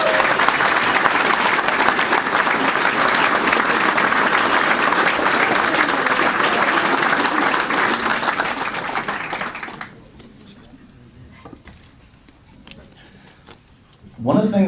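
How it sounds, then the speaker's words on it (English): An indoor audience applauds law enforcement at a political campaign event for an Ulster County district attorney candidate, with loud sustained clapping for about ten seconds that then drops away to quiet room tone before a voice starts. "Please, a round of applause for the law enforcement that's here tonight."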